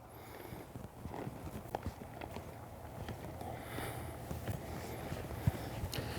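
Horse hoofbeats from a loping horse in a riding arena during flying lead change training, a steady soft clip-clop rhythm over a low background rumble, moderately near and fairly faint.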